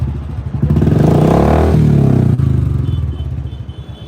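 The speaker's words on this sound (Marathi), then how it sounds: "मॉडिफाय सायलेन्सर बसून आणि हॉंकिंग हॉर्न बसून मोठमोठ्याने आवाज रस्त्यानं करत जात असतात" A loud motorcycle with a modified silencer revs hard on a street, a rough, throaty roar building and holding before easing off into a sputtering idle.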